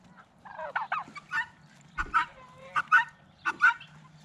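Chickens being handed lettuce and leftover spare ribs as a treat squawk and honk in short, loud bursts, several distinct calls spaced across a few seconds with little else behind them.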